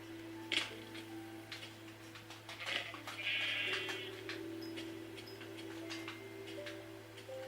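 Sheep bleat faintly in the Minecraft video game, with a short wavering call among scattered game clicks and ticks over a steady low background hum.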